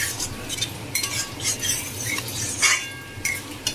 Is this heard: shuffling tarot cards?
no